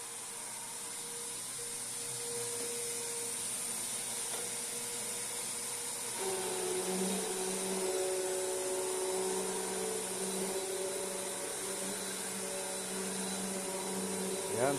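A Royal Pro Series Multi Floor upright vacuum cleaner hums steadily throughout, with its tone shifting midway as the roller brush is switched off, leaving a continuous motor whine with no talk.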